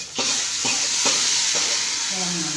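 Hot tempering poured into ash gourd sambar, a loud steady sizzle with a few clinks of a spoon against the pot, frying hiss filling the whole moment.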